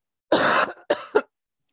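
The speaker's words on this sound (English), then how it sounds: "I coughed in the mic" A close, loud cough followed by two shorter coughs in quick succession, then silence.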